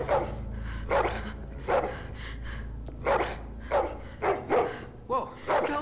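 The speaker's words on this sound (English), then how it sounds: "Oh, it's the dog." A dog in The Walking Dead game barks in a steady series of sharp, close woofs, about nine in six seconds, coming quicker toward the end over a low rumbling background.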